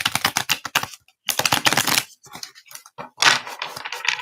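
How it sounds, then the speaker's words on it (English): A cat-themed tarot deck shuffled by hand in repeated quick bursts of riffling card clicks, close and fairly loud, with short pauses between shuffles and no talking. "I'm going to shuffle these just one more time and start pulling some cards"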